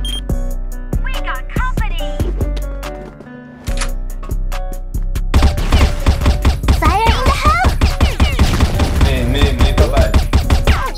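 Gunfire in the video game CrossFire, sharp rapid shots in bursts, sparse at first and then dense and loud, mixed with game effects and beeps.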